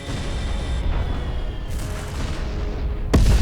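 Warship guns open fire in the Freespace 2 space combat game, a continuous roll of heavy booms and rumbling blasts, loud and dense, with a sharp louder burst near the end.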